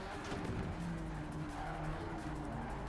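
A race car in Project Cars 3 skids under handbrake through an off-camber corner, tires squealing in a steady drawn-out tone over constant engine drone.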